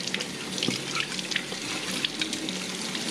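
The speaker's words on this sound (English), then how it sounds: "we're going to wash the jars" Tap water runs steadily over freshly pressure-canned butternut squash jars as they are rinsed of sticky residue, a close, continuous splashing with small clinks and drips.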